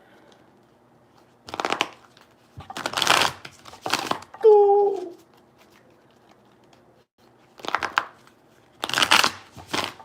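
Several short bursts of tarot card shuffling, crisp riffling flutters separated by pauses, with a brief spoken word in the middle.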